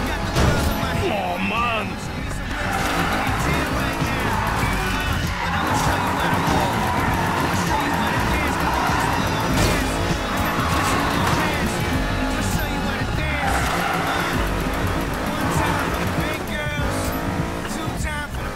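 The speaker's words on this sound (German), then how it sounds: "Genau hier rum geht's beim Driften." A car drifting in Need for Speed Payback, its engine roaring steadily as tires squeal and skid through a long slide, set against game music and heard under someone speaking German.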